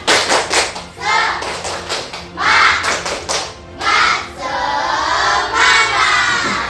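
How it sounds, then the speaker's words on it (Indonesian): Schoolchildren in a classroom do a rhythmic group clap routine, sharp clusters of claps in a set pattern interleaved with loud chanted shouts from the whole class. "Semangat, tepuk semangat."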